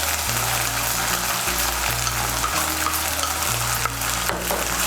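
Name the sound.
tomato paste stirred and fried with ginger-garlic paste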